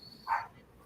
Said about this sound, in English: my dog was barking